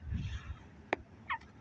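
Ducks close by, around someone's feet: a few short, rough calls come in quick bursts over a quiet background, with no talking.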